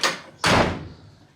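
Heavy steel door of a 1970 Chevelle slams shut once with a solid, close thud, then fades off quickly into quiet.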